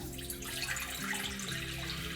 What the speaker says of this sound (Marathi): सर्वप्रथम कढई गरम करायला ठेवला आहे त्याच्यामध्ये दीड ग्लास पाणी घालायचं आहे